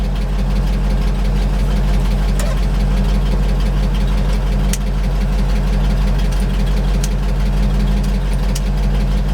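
A 1975 GMC C6000 truck engine idles steadily and loudly close by, a continuous low rumble with a faint knocking texture and no talk throughout.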